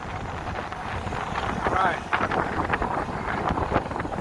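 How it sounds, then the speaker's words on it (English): Strong gusts buffet the microphone on a downtown Chicago street during Saint Patrick's Day celebrations, a steady low rumble of wind noise running throughout under someone speaking. "Very windy, ladies and gentlemen."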